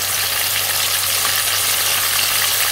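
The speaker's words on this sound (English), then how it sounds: "Sear it properly for about 3 to 4 minutes, because what it does, it's going to lock all the juices inside the lamb" Lamb searing in a hot pan for a staff curry, a steady, loud broadband sizzle of frying that holds evenly throughout with no talk.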